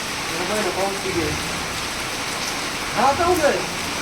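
Heavy monsoon rain falls steadily as a dense, even hiss through the whole stretch, with a voice briefly talking over it near the start and again near the end.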